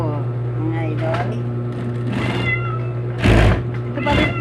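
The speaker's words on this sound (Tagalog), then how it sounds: "Ito pa rin po yung Maawit ang pusa" A cat meows several times in short, separate calls at a work site during overtime, heard over a steady mechanical hum while someone speaks.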